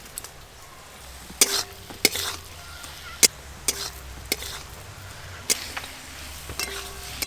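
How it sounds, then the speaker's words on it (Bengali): Potatoes fry in hot oil with chopped tomato and spices, giving a steady sizzle broken by repeated sharp scrapes and knocks of a stirring utensil against the pan, close and clear, with no talking. "সুন্দর করে মশলার সঙ্গে আলু কষে নিয়েছি"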